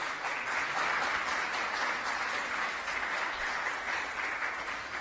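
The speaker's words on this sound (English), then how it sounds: "please join me in giving everyone here a round of applause one more time" Sustained audience applause at the Liftoff Houston Pitch Day 2018 event, an even, dense roar of clapping from a large crowd that holds steady throughout.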